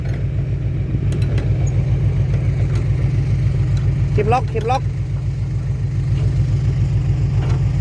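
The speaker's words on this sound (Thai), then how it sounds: "ได้ขึ้นรถ ขึ้นรถไถพอดีเลยเว้ย" A tractor engine runs steadily close by with a low, even chugging throb throughout, while people talk over it.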